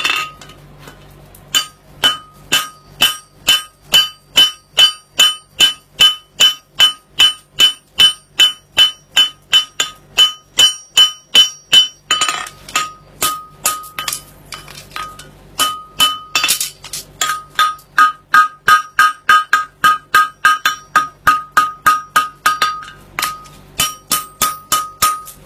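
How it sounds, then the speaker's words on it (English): A cross-peen hammer rings against a horseshoe on an anvil in a long steady run of bright, metallic strikes, close and loud, with a short pause midway before the rhythmic hammering resumes. "That's certainly got a lot better with this hammer, because the bulk of the weight's on the cross pain end"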